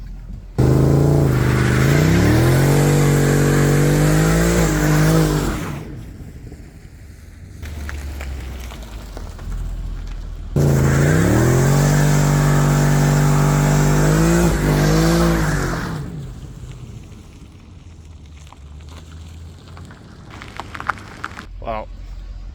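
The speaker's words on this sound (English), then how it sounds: "I guess we might as well do a burnout while traction control's off" Mercedes E63 AMG 6.2L V8 doing a burnout with traction control off: two long, loud stretches of engine roar and squealing tires, each several seconds long, with a quieter idling gap between them and voices speaking in the background.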